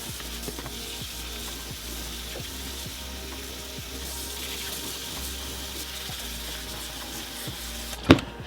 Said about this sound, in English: I'm just going to wash all my veggies so all the washing will be finished all together.